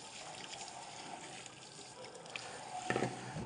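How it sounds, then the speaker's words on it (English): Water rinsing down into a kitchen sink drain, a faint continuous splashing trickle with a brief louder splash near the end. "Do your best to rinse it straight down the hole."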